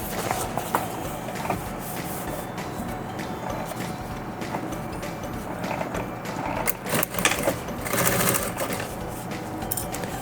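A sewing machine stitches the middle seam of a bag, a rapid mechanical whirring with rhythmic needle clatter that runs steadily for about ten seconds, surging in bursts near the end; close and alone.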